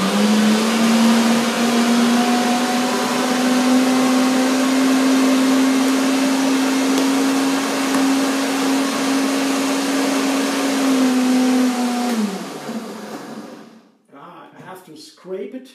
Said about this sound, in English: So now I blend the rest.